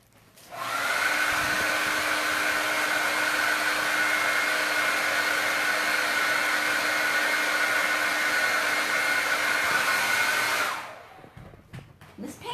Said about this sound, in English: Now I'm going to do a quick blow dry here.